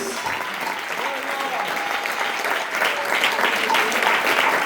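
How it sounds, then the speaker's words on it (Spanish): A church congregation claps hands loudly and continuously during an evangelical service, a dense, even wash of applause that swells slightly near the end. "Dale fuerte las palmas a Jesús"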